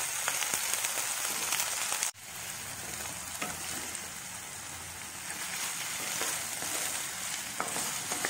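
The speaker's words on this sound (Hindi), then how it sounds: "आलु गाजर को फ्राए करद" Potatoes and carrots frying in a pan, a dense continuous sizzle close up with occasional stirring scrapes and a sharp clunk early on.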